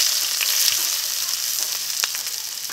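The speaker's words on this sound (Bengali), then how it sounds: "এই তেলে দিয়ে দিচ্ছি পেঁয়াজ কুচি।" Chopped onion sizzles steadily in hot mustard oil in a wok, a loud, continuous frying hiss with occasional faint pops and stirring scrapes.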